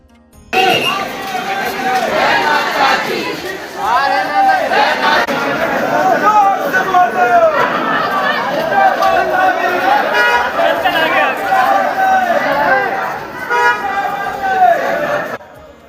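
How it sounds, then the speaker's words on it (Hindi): Large crowd of pilgrims on the Vaishno Devi yatra, a dense, steady hubbub of many overlapping voices close by, with occasional tooting sounds mixed in throughout. "आज 1 तारीख को भीड़ बहुत ज़्यादा है।"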